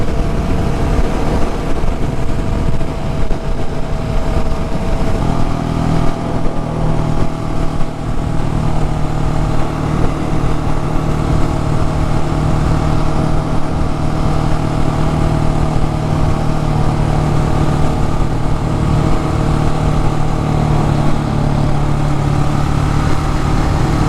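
A 2020 KTM 690 Enduro R motorcycle rides past with a loud, steady engine drone that holds for the whole stretch, thickening slightly in its low rumble midway, with no talking.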